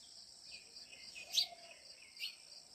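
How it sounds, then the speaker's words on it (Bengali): Faint, sparse chirps from several birds on a foggy early winter morning, with a steady thin calling of crickets in the background and a couple of slightly louder, brief calls rising out of it. "ভোরবেলার বিভিন্ন পাখির কিচিরমিচির আওয়াজ আর ঝিঝি পোকার ডাক আমার কাছে কিন্তু খুবই ভালো লাগে"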